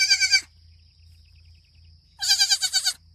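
A newborn Nigerian Dwarf dairy goat kid bleats twice, each call a loud, close, wavering cry separated by a couple of seconds of quiet barn hum.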